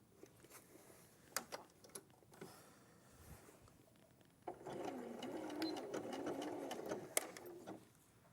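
Sewing machine stitching a jacket seam, a faint motor whir that rises into a steady close run after a few quiet handling clicks.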